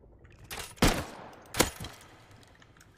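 Gunfire in the survival game Rust aimed at the player: two sharp, loud shot bursts about a second apart, with a fainter crack following the second, over a quiet background.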